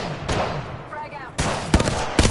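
A frag grenade blast in a multiplayer shooter game, a burst at mid-clip followed by sharp impulsive bangs and a second cluster of loud cracks near the end, with game chatter in between.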